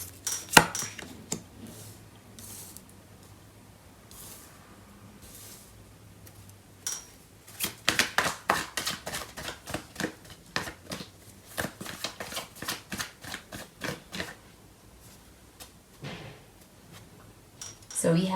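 Tarot cards shuffled and handled at close range, a rapid run of crisp riffling snaps and slaps building in the middle and trailing off, with a voice talking at the start.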